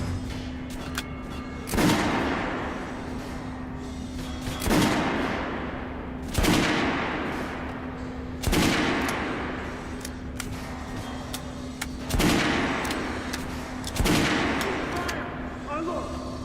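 Kalash rifle fire in the video game Metro: Last Light: bursts of loud shots come roughly every two seconds, each with a booming echoing decay, over a constant low electrical hum.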